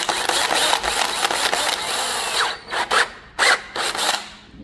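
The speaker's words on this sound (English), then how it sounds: "I'm gonna brace this drill in my arm and try to keep it as straight as possible" A power drill whirs steadily and loudly for a few seconds, then stops and starts in several short bursts near the end.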